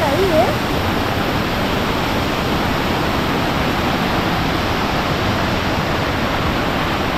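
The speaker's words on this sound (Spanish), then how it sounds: "¡Mira toda el agua que cae! ¡Pero muchísima!" A steady, loud roar of water pouring down the Rivert waterfall over calcareous tufa into a pool, with broadband rushing that stays constant and close for the whole span.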